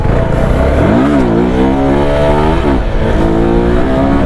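A motorcycle engine revs loud and steady during a wheelie on an empty road, the pitch climbing, dropping sharply at a gear shift, then climbing again under continuous engine roar.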